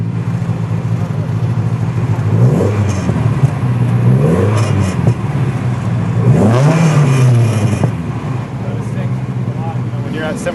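A 1965 Alfa Romeo Sprint GTA engine revving hard toward 7,500 RPM, with repeated rising and falling engine sweeps under a steady drone, loud and close, captured from the driving car.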